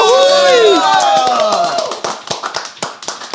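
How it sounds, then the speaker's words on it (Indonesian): A small audience claps for Abdel Rio in a casual comedy show setting, with crowd voices trailing off as a sparse, uneven run of distinct hand claps takes over. "Berikan tepuk tangan untuk Abdel Rio"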